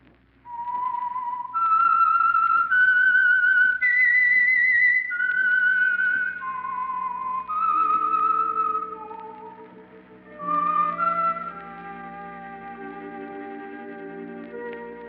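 A lone whistled melody, the eerie theme signal of the 1940s radio drama The Whistler, rising and falling in sustained clear notes with echo, ending as soft orchestral tones swell underneath.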